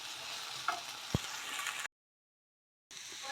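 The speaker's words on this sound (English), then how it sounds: "That's the turkey all cooking nicely there." Turkey frying in a pan for a Brazilian moqueca, giving a steady broadband sizzle with a single sharp clink partway through, then a sudden stretch of silence before the sizzle resumes.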